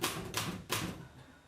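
Typewriter keys struck during a village meeting about land sale paperwork, a few clustered clacks arriving in two quick bursts against a dense room background, fairly close and moderately loud.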